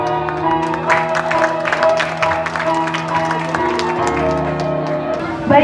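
Audience applause after a Javanese dance performance from Yogyakarta, continuous clapping from a crowd over sustained gamelan-like musical tones.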